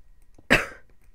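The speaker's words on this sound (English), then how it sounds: "sorry, I've got a bit of a cough" A single short cough bursts out close to a microphone after near silence, a sharp harsh onset that fades within about half a second.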